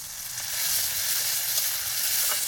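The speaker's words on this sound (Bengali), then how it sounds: "নুন দিয়ে দিলাম হলুদ দিলাম কষিয়ে নেবে" Spiced masala with salt and turmeric frying in a pan over a village outdoor cookfire, a continuous soft hiss and sizzle with no talking.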